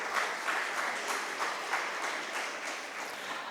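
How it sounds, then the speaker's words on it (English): Audience applause at an exhibition inauguration, a continuous dense patter of clapping from a gathered crowd, moderately loud and steady throughout. "Please give me a round of applause."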